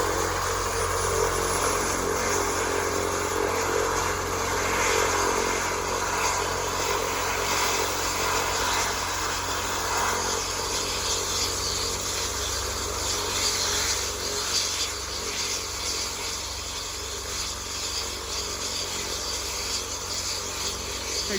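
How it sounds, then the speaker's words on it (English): Helicopter engine warming up before takeoff on a snowy morning after a heavy snowstorm, a steady loud droning hum and rotor whine that holds continuously with little change throughout. "Takes them a while for the helicopter to warm up."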